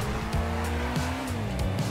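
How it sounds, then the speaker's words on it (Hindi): A yellow Lamborghini Urus sports car driven through Los Santos traffic in GTA 5 gives a steady engine drone with shifting pitch and brief tire squeals, moderately loud and with no talking. "तो चलिए चलते हैं अपनी इस प्यारी सी येलो रंग की Lamborghini Urus में"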